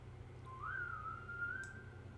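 A single melodic whistle rises and holds a steady tone for over a second, clear above a low, constant musical backing in a K-pop song.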